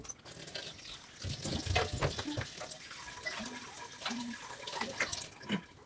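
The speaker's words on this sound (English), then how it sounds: "so I'm just going to take it straight from the tap" Mountain spring water runs from a kitchen tap while chickpea flatbread batter is being made, a steady close splashing rush lasting throughout with a few faint bird-like chirps in the background.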